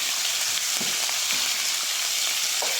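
Pork bones for caldereta frying in a pan, a dense continuous sizzle with a few soft stirring knocks, close and steady with no talking.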